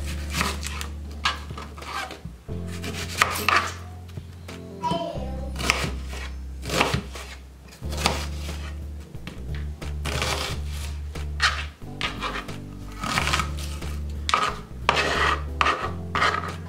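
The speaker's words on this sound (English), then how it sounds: "so I'm gonna come back by cutting this in slices" A whole onion being sliced on a cutting board, with repeated close knife strokes and crisp scraping cuts in an irregular rhythm, plus brief handling noises and some quiet background hum.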